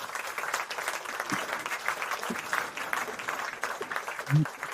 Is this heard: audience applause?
yes